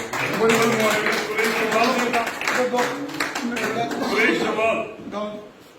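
An audience claps in welcome for a new party member at a BJP political gathering, dense overlapping applause sustained for several seconds with voices mixed in, fading near the end.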